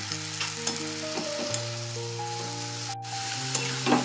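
Spinach being stirred and fried in a pan, a continuous soft sizzle with steady scraping stir strokes, close and moderately quiet, with a low hum in the background.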